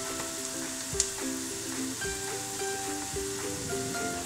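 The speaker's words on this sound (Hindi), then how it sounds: "1 छोटी चम्मच कश्मीरी लाल पाउडर डालेंगे और इसको भुनेंगे अच्छे से।" Spice powders, including Kashmiri red chilli powder, roasting in a pan for bajra flour mathri, a soft continuous sizzle with light stirring and one sharp click near the start, fairly quiet with no voice.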